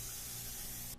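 An HVLP spray gun sprays a coating in a continuous loud hiss that holds steady for about a second, then cuts off sharply at the end of the stroke.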